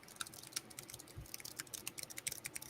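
Fast, irregular clicking of typing on a barely used Matias wired backlit keyboard, with crisp close keystrokes at a steady busy pace and no talking.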